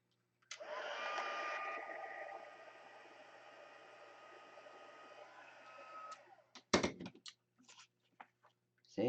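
A hair dryer blows steadily on a craft piece being made with the retiform technique, a loud even whoosh for several seconds that cuts off, followed by brief handling clatter and small knocks.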